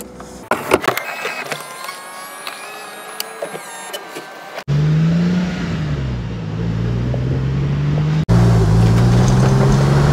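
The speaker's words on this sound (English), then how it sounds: "you get that beautiful sound of that flat six engine howling from the back" Porsche 911 996 convertible with its rear flat-six engine: a whirring electric roof mechanism with mechanical clicks, then a loud, steady engine drone while driving, rising and falling slightly in pitch.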